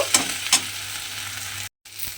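Okra fries on low gas in a pan with a soft, steady sizzle, and two quick stirring scrapes sound near the start. The sizzle drops out briefly near the end before returning.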